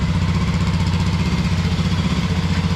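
A 2025 KLX300 dirt bike engine with its PAIR valve removed idles steadily up close, a loud, throbbing low rumble with an even, rapid pulsing rhythm, no popping and no talking.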